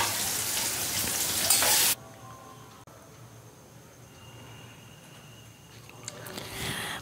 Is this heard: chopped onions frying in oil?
yes